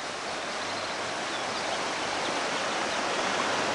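A creek flows and rushes steadily nearby, a continuous broad hiss of moving water at moderate volume with no voices.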